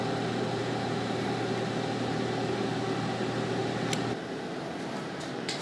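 A food dehydrator runs while drying onions, giving a constant, even fan whir that dips slightly in level near the end.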